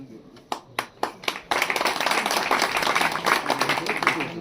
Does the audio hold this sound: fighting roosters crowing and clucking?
no